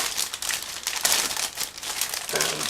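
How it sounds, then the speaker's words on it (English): A plastic bag holding parts of an ICM 1/48 scale A-26C-15 Invader model kit crinkles and rustles steadily and close up for a few seconds, with no talking. "here is the plastic bag"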